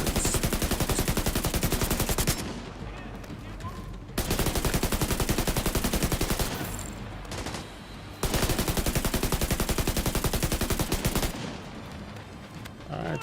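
Assault rifle fire in The Division 2, Battle for Brooklyn: long sustained automatic bursts of rapid, evenly spaced shots, loud and close, broken by short pauses.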